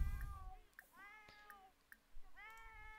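A pet cat in The Sims 4 meows several times in quick succession, short rising-and-falling cries spread across a few seconds, fairly faint with a couple of soft thumps between them.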